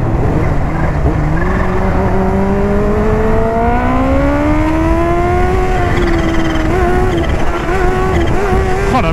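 Kawasaki H2 motorcycle riding, its engine note rising steadily through the gears as it accelerates, loud and close with a continuous whine, no voices.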